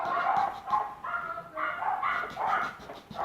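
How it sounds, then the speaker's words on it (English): Dogs barking next door from a short distance, repeated yelps and barks with a slightly whining tone, coming in uneven bursts. "there's dogs next door barking and howling"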